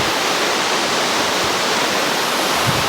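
A waterfall and its runoff water roar as a dense, constant broadband wash that stays close and loud throughout, with no voices.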